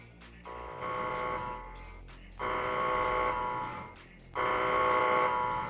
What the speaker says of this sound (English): It's a howler alarm.